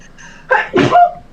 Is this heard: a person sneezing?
yes